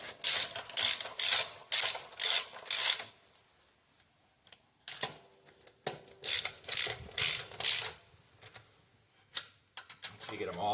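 A hand ratchet clicks rapidly while snugging lug nuts on a 2012 Ford Explorer wheel during a rear brake job, loud close bursts of ratcheting separated by brief pauses, with no talk.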